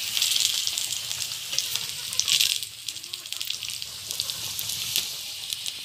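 Potatoes frying in oil over a clay stove give a steady, dense sizzle with faint crackles and light clinks, heard up close and continuous.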